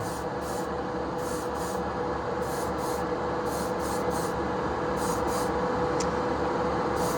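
An engine intake manifold is spray painted gloss black, with a series of short hissing aerosol bursts in an uneven rhythm over a steady low hum of background noise, no talking.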